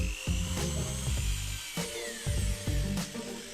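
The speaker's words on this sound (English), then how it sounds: "It's nothing more than a chunk of plastic, so drill it out." A power drill bores out a plastic block inside a Mitsubishi iMiEV gear shifter, its whining motor cutting in and out in short bursts with grinding, chattering bites into the plastic, close up.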